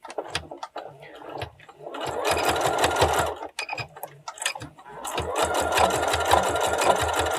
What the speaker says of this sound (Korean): 여기도 중심 선 맞추고 이렇게 해서 박음질 해줍니다